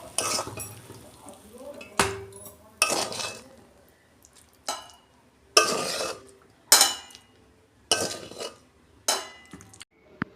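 Cooked cauliflower curry is poured out of a pan, with a steady series of sharp metal clinks and scrapes from utensils against the cookware, spaced a second or so apart.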